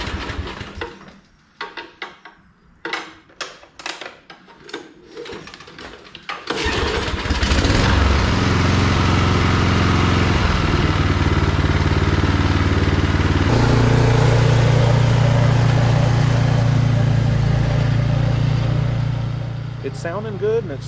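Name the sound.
John Deere snow blower engine running with new carburetor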